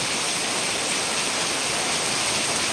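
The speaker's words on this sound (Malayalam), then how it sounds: "കോഴിക്കോട് പയ്യോളി നല്ല സൂപ്പർ മഴ പെയ്തുകൊണ്ടിരിക്കുന്നത് കാണുന്നുണ്ടോ" Heavy monsoon rain pours steadily in Payyoli, Kozhikode, a dense, unbroken hiss of water close by with no pauses or voices.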